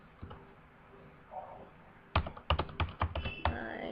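Close-up typing on a computer keyboard, a quick run of sharp, irregular key clicks after a quieter start with faint background noise.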